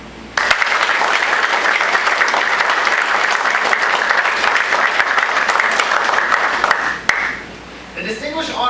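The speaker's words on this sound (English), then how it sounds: "please join me in a round of applause for the newest air defenders in the United States Army" Sustained applause from an audience at a US Army graduation ceremony for air defense soldiers, loud steady clapping from a large crowd for about seven seconds before tapering off, with a few scattered claps afterward.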